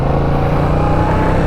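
A 2021 Yamaha MT-07 motorcycle being ridden gives a steady, loud engine drone with rushing wind noise that holds constant throughout, with no talking.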